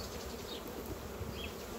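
A bee buzzing close by near food set out for animals, a steady low drone over a constant background hum, no speech.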